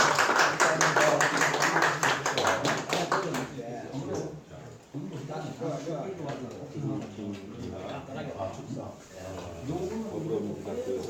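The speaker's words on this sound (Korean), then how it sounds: "오늘 발표하신 권 팀장님한테 박수 한번 쳐주세요" Audience applause for a presenter at a Sunday lecture, rapid dense clapping for about three seconds that cuts off abruptly, followed by someone speaking.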